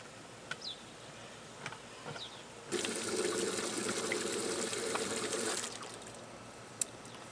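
Water pours into a chicken waterer in a steady rushing gush lasting about three seconds, set against quiet outdoor ambience with faint insect buzzing and a few small clicks.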